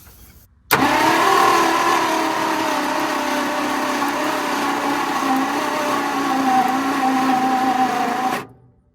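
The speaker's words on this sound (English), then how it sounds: "That starter really don't sound good." A 1966 Ford's starter motor cranks continuously for about eight seconds, a loud steady grinding whir that begins abruptly and cuts off at the end without the engine catching.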